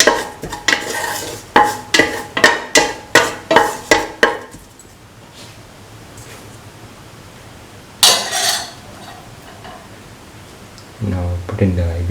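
Potato and ivy gourd rice being sautéed in a pan: a run of quick, evenly spaced scraping stirs, a pause with a soft background hiss, then another brief scrape and a low clunk near the end.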